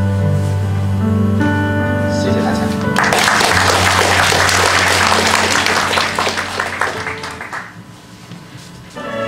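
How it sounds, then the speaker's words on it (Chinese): Applause from a poetry festival audience honoring two reciters follows a speaking voice, a dense wash of clapping that swells, holds for several seconds and gradually thins out. "我们再次掌声献给他们。"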